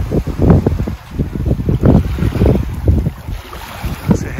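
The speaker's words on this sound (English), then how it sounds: "So we're sailing quite nicely." A sailboat moves under a steady wind, with gusty wind rumble and irregular water sloshing against the hull, loud and close throughout.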